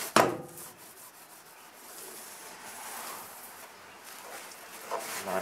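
An old safari-style window frame is sanded by hand near the hinge, giving a soft, steady rubbing scrape that rises and falls in slow strokes after a brief sharp contact at the start.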